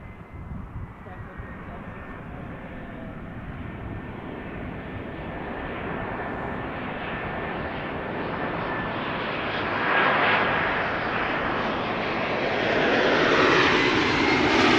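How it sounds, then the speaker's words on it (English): A Qatar Airways Boeing 777 jet arriving at Schiphol Airport, its broad engine roar loud and continuous, swelling as the aircraft draws nearer. "We have a Qatar 777 arriving from Doha, entering the Netherlands."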